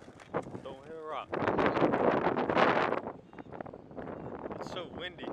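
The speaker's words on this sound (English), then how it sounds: "It's so windy." Strong wind buffets the microphone in loud, roaring gusts, easing off toward the end, with a voice briefly heard at the start and end.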